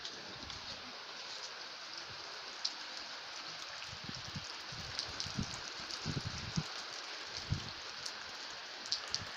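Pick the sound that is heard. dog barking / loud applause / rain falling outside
rain falling outside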